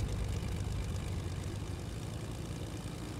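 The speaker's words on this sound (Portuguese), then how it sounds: "eu consigo ligar o motor" A video game engine runs after starting, a steady, low, rumbling drone that holds even and continuous throughout with no change in pace.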